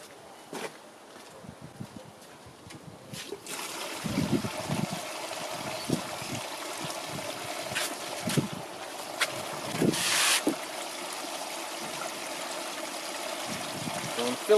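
Water pumped by a bilge pump runs through a gold wash plant sluice outdoors, a steady trickling flow with wind buffeting the microphone and occasional splashes and knocks.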